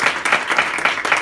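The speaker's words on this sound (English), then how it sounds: "So give yourselves a round of applause" Club members at a Unity Speakers meeting applaud themselves, a dense steady patter of many hands clapping at close range with no break.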